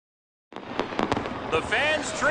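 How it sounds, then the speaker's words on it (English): A fireworks display over Jukasa Motor Speedway at a race event, with a rapid series of crackling bursts and pops beginning abruptly, followed by a voice talking over the continuing crackle. "Beautiful fireworks display over Jukasa Motor Speedway."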